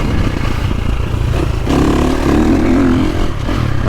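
A 2023 KTM 350 SXF dirt bike engine revs and rises in pitch over a constant raspy drone, loud and close, with no voices.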